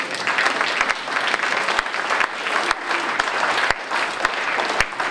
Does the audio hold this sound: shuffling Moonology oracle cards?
no